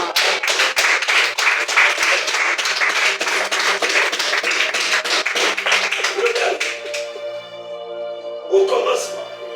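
A church congregation at a prayer meeting clapping together in a fast, steady rhythm for several seconds, then breaking into looser clapping and cheering as the beat fades.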